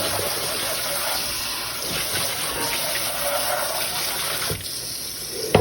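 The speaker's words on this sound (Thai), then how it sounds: "ล้างชามก็เป็นนะครับ" Tap water runs steadily into a sink while dishes are washed, a loud continuous gushing stream that eases near the end, ending with a clatter.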